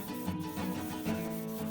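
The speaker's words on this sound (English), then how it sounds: "the primary color is now perfectly dry and we need to sand it one more time" Sandpaper rubbed over a painted cardboard Thor's hammer, a brief soft scraping with a few back-and-forth strokes, close and fairly quiet with no talking.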